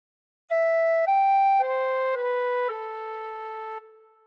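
Tin whistle playing a slow phrase of the hymn Be Thou My Vision, six clear sustained notes stepping downward, close and alone.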